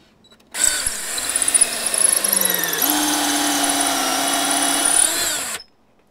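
A power drill bores into a door to make the latch hole, with a single sustained high whine lasting about five seconds. Its pitch shifts as the bit cuts through the wood, and it starts and stops abruptly in a quiet room.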